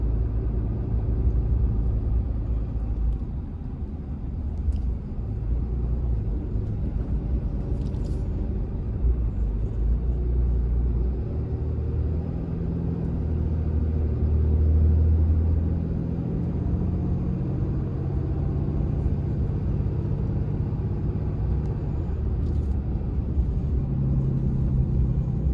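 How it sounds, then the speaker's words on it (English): A truck engine fitted with a Cheetah turbo and a Jake brake rumbles steadily from inside the cab, a deep, continuous drone that swells slightly midway without any distinct braking bursts. "Jake brake definitely feels a lot better."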